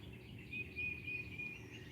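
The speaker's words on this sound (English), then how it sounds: "all of our regular chirpy birds" Small birds chirp outdoors on a Saturday morning near a front porch, giving a few thin, high repeated calls that are faint and distant over a low background hum.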